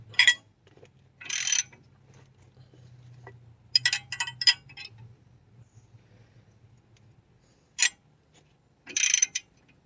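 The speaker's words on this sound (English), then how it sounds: "So I put my torque meter on and crank it." A torque wrench ratchets while a strut bolt is tightened on a 2005 Toyota Sienna's passenger-side front strut: several separate bursts of rapid mechanical clicking, close by, with quiet pauses between them.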